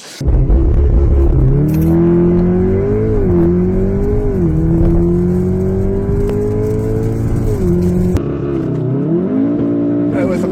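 A tuned stage 4 VW Golf MK7.5 R accelerates hard with wheelspin, its engine droning loudly and rising in pitch in long sweeps, dipping and climbing again near the end, close and dominant.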